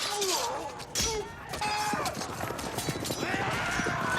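Charging horses thunder through a battle scene in the film Braveheart, with loud clattering hoofbeats, sharp impacts and crashes, and faint neighing, all packed densely together.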